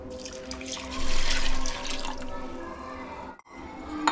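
Coconut milk is poured into basmati rice in a steady close stream that swells briefly, then continues evenly before a short pause and a final splash.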